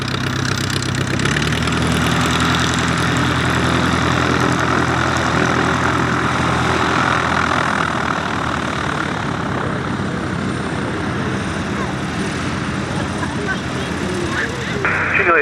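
A light aircraft at an airshow rolls for takeoff from runway 10, its engine and propeller droning loud and steady throughout, with a tower radio exchange audible underneath.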